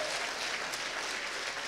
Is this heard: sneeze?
no